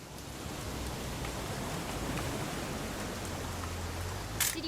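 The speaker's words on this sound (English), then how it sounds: "It's gonna rain the whole weekend, isn't it?" Rain falls steadily in What Remains of Edith Finch, a constant even hiss with a faint low hum underneath and a brief sharper sound near the end.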